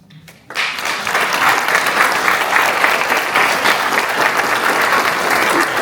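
An audience at a new main library ribbon cutting breaks into sustained, loud applause for Friends of the Library members, starting abruptly after a brief quiet moment and continuing steadily to the end.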